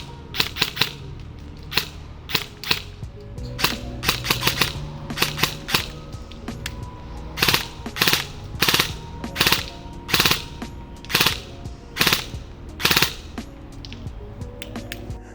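An Elite Force H&K MP7 A1 Gen 3 airsoft electric gun fires a long run of short, sharp, loud bursts and single shots at close range, with a faint motor whir between shots.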